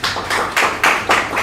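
Five or six evenly spaced bursts of applause-like claps, close and loud, each a short rush of tapping that fades before the next, welcoming a speaker at a postgraduate research workshop.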